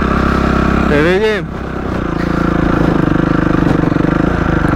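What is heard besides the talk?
scooter and Honda CRF 250 motorcycle engines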